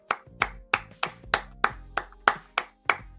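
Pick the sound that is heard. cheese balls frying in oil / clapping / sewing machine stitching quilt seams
clapping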